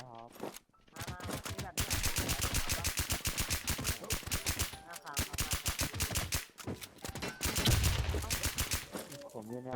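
Automatic gunfire in the video game FreekickZ: long, loud bursts of rapid-fire shots with brief pauses between them, and a voice talking over the shooting.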